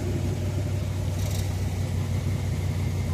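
A 1978 Jeep CJ-5 engine idling just after a cold start, a steady close low rumble with an even texture throughout and no talking.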